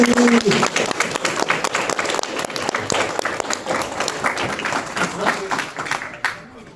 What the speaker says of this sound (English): please join me in giving a huge round of applause for Mr. Kevin Afghani.